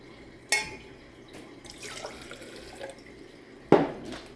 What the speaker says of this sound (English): I'm going to put some water in.